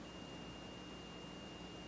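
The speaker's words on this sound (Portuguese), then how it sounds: "Se você colocar e o multímetro bipar, o aparelho se encontra em curto." A steady high electronic tone from a multimeter continuity test on a shorted phone sounds continuously, a thin unbroken beep held for the full two seconds over a faint low hum.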